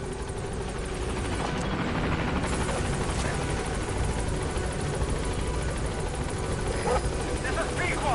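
The Pequod helicopter from Metal Gear Solid V arrives at a landing zone with loud, continuous rotor chop and turbine whine that hold steady throughout.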